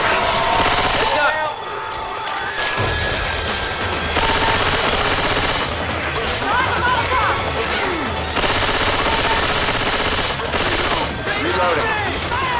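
Rapid bursts of automatic gunfire from the zombie shooter Left 4 Dead 2 rattle almost continuously, dense and loud, with brief shifts in intensity and occasional voices over the shooting.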